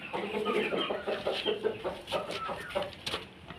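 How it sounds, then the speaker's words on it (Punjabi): A pure Punjabi fighting rooster, from a Chet Singh line, clucks and calls in a farmyard in a close, busy run of repeated bursts, with other birds faintly around it. "ਇਹ ਪਿਓਰ ਪੰਜਾਬੀ ਕੁੱਕੜ ਹੈ"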